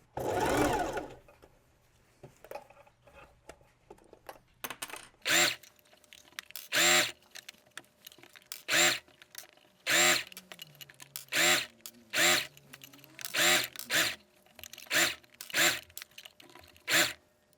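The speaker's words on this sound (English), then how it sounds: "now we simply start to sew on the collar" Sewing machine stitching a collar onto a garment, running in about a dozen short bursts of rapid stitching separated by brief pauses, close and clear with no talk.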